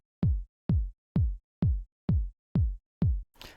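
A bassy kick drum sample for a dance or house track thumps seven times at an even, steady pace, each hit deep and punchy with a quick decay, followed by a short, softer noisy tail.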